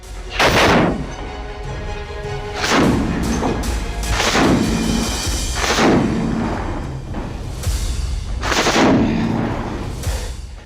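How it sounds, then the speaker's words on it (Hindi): Heavy gunfire and artillery in the Russia-Ukraine war boom about six times at irregular intervals of a couple of seconds, each sharp thump followed by a rumbling tail. "लगातार आ रही गोलियों की आवाज"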